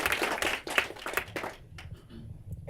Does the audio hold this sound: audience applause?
yes